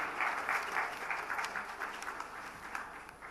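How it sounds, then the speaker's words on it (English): Panel audience applauding panelist Aditi, a moderate, somewhat distant round of clapping that swells early then tapers off over a few seconds. "Aditi, please, a round of applause."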